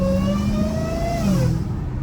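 A Dodge Hellcat Redeye with a catless straight-piped exhaust and dual mufflers revs loudly nearby, its deep engine note rising and then dropping in one continuous, throaty pull.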